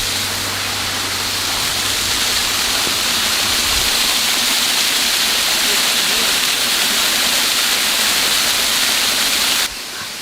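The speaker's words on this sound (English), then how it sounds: "We found the waterfall." A waterfall pours with a loud, steady broadband rush that continues unbroken, with a pool below and some voices briefly mixed in.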